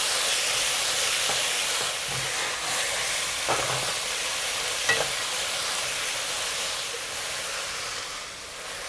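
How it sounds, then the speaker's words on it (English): Aromatics stir-fry in a wok for a Chinese lemon chicken dish: a steady, close sizzling hiss with occasional scraping strokes and louder spatula knocks, without any talking. "You just need to fry this or mix them around for a minute or so"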